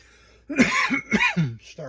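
A few short, rough coughs in quick succession, close to the microphone, sounding like a throat being cleared.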